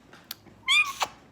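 A pet bird mimics a cat's meow, a short, close, rising-then-falling nasal cry preceded by a couple of faint clicks and followed by a brief chirp.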